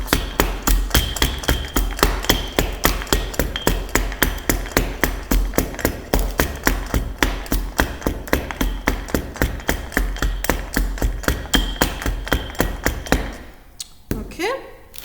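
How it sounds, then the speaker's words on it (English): A wooden compactor pounds sand into a shear test frame with loud, steady, evenly spaced thuds that run for about thirteen seconds before stopping. "then we're using our wooden compactor and we're just compacting the sand"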